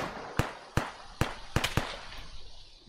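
Frag grenades detonating at a bunker in the ARMA 3 video game: five sharp, loud explosive cracks spread over about two seconds, two of them in quick succession, each followed by a short rumbling decay.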